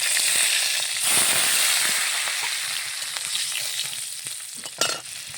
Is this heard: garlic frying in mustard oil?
yes